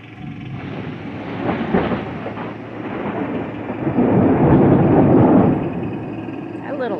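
Thunder from nearby lightning during a popup storm rumbles loudly and low for several seconds, swelling midway under wind buffeting the microphone.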